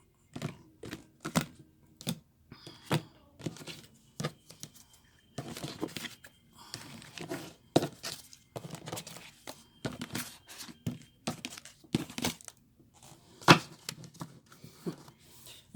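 A tarot deck is cut and handled on a table, giving a string of sharp, close card slaps and shuffling rustles with irregular pauses between them.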